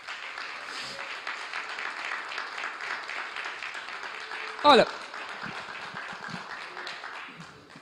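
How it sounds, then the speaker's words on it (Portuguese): A church congregation claps under a voice, the applause modest and fairly steady rather than loud, with a short sharp sound cutting through midway. "Dê um aplauso ao Senhor Jesus, irmãos."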